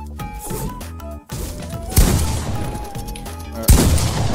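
Gunshots in a Fortnite-style building video game ring out amid dense in-game noise, with sharp loud blasts near the two-second mark and again near the end, layered over steady game sound.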